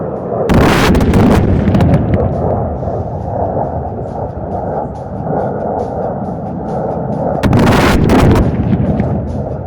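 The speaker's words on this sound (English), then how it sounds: "What an impact! The enemy's runway has been severely damaged." Air-dropped bombs from Su-30 jets blast an enemy runway target at an Indian Air Force firepower demonstration, two loud broadband explosions about seven seconds apart over a continuous rumbling roar.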